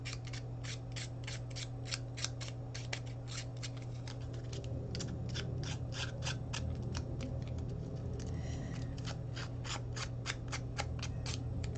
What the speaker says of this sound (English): Just use my scissors just to rough it up some more.